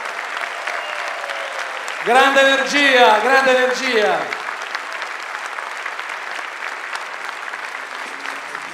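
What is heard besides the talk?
audience applause at a concert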